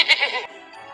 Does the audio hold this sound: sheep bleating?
yes